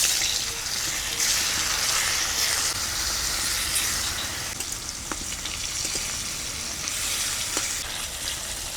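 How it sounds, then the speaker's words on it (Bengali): Paneer cubes frying in mustard oil make a loud, continuous crackling sizzle up close, with a few brief clicks of a utensil against the pan and no speech. "প্রথমে পনিরগুলোকে ভেজে নেব।"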